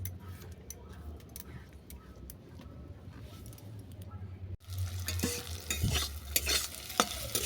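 Bitter gourd (uchhe) frying in oil in a home kitchen, a quiet sizzle that turns louder and busier halfway through as the pieces are stirred, with light metallic clinks of utensils.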